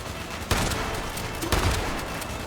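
Weapon gunfire in the Fallout 76 video game, loud continuous bursts of rapid shots with two heavier impacts, under near-constant firing noise.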